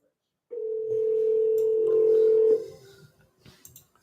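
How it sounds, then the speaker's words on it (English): A phone call rings through as a steady two-second electronic tone, loud and close, followed by faint noise and brief voices. "Can you guys hear that ringing?"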